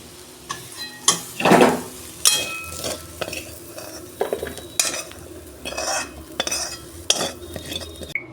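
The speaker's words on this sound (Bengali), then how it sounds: "এই যে কাঁকড়েল আলু ভাজাটা আমার হয়ে গেছে, আমি ঢেলে ফেলছি।" Fried pointed gourd and potato are tipped out of a pan, a spatula scraping and clattering against the metal in uneven bursts with light sizzling between strokes.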